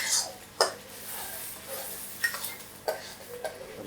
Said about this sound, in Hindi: और अब इसको भूनना है टमाटर और हरी मिर्चों के पेस्ट के साथ